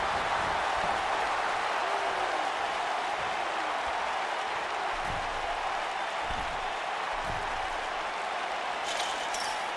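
A wrestling crowd roaring at a steel cage match, a broad, steady wash of cheering and noise from a large arena audience that carries on without a break.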